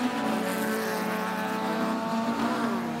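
Junior Cup rallycross cars race at Gardermoen, their engines holding a loud, steady, close-up roar with a strong tonal drone that shifts slightly in pitch throughout.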